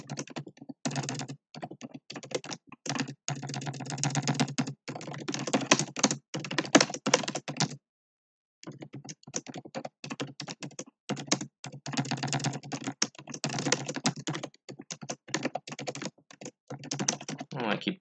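Rapid typing on a computer keyboard during competitive programming, close and crisp, with dense bursts of keystrokes and one brief pause partway through.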